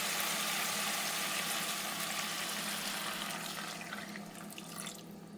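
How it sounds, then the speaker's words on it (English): Beef broth poured into a cooking pot of caramelized onions, a steady continuous splash and trickle of liquid that tapers off slightly toward the end, fairly close and alone. "I'm gonna add me a cup of beef broth"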